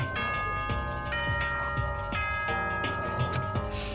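A school announcement chime from the video game Danganronpa rings out as a series of bright, evenly spaced bell-like tones over a steady low hum, with no talking.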